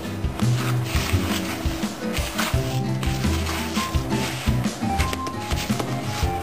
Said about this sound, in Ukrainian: І мішу тісто.